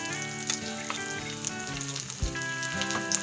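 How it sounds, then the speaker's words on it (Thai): Onions stir-frying in a hot pan for a Thai mala chili-sauce beef dish, a close, continuous sizzle with spatula scrapes and clinks scattered throughout, no one talking. "ผัดหอมใหญ่ให้หอมเลยนะ ผัดหอมใหญ่ไป ก่อนนะครับ"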